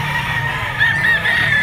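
An eight-month-old yellow-legged straight-comb stag rooster gives a few short clucking calls at close range over a low background hum, with no talk during them.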